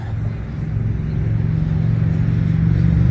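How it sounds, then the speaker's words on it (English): Motorcycle engines rumbling outside an abandoned Goodyear building in Toledo, Ohio, on a warm March day, a steady low growl that slowly swells louder over a few seconds, with no talk. "you got a lot of people out on motorcycles, so it's very noisy"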